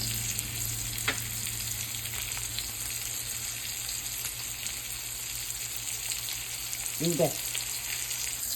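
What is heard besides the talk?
food frying in butter and being flipped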